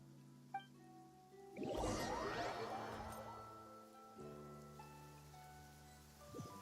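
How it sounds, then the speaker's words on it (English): Steady rain falls in the game Genshin Impact, a soft continuous patter layered under sustained music, with a louder swell of splashing noise partway through before settling back to a gentle background wash. "It's been raining non-stop for a few days now."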